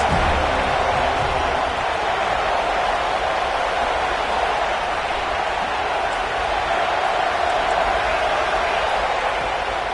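A packed stadium crowd roars steadily at a college football game between FSU and UCLA, a dense continuous wash of cheering and noise on third down, loud and sustained throughout.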